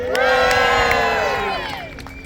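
A large outdoor crowd at a history festival's gladiator show cheers and shouts together in a loud, sustained roar that swells and then gradually fades.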